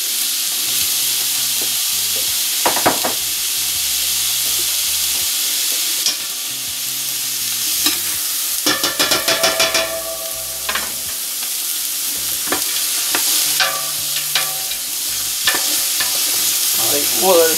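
Onions fry and slowly caramelize in a pan for couscous royal, a steady hiss and sizzle with scattered clinks and scrapes of stirring, loud and near.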